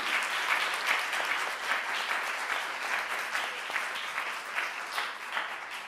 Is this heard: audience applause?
yes